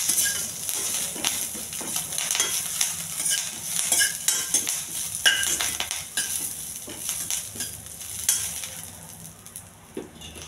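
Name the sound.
cumin, green chilli and curry leaves frying in oil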